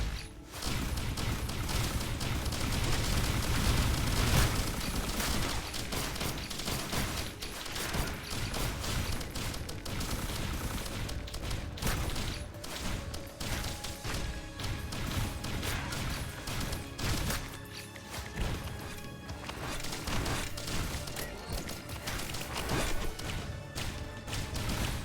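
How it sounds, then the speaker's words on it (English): Missiles fire in a continuous barrage in Risk of Rain Returns, a dense stream of sharp launches and crashing impacts layered over loud, busy game action throughout. "That is why I get so many missiles."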